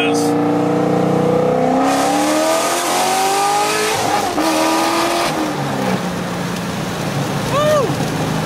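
A 2009 Corvette, its differential recently repaired, accelerates hard in second gear, the loud engine climbing steeply in pitch and then falling back, heard from inside the car with a brief rising whine near the end.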